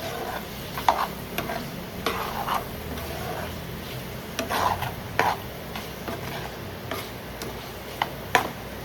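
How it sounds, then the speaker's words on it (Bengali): Julienne-cut carrots being stirred in a pan, giving soft scraping and a faint sizzle broken by irregular sharp taps of the spoon against the pan, close and fairly quiet. "গাজরটা ভালো করে মেশাচ্ছি ফার্স্টে।"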